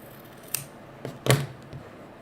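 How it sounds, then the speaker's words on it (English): Serrated scissors snip through excess quilt fabric in a few quick, close cuts, the last one the loudest, against a quiet room. "I'm going to pull my serrated scissors for this because I like that."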